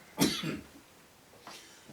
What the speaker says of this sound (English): Some coughing for an epilogue.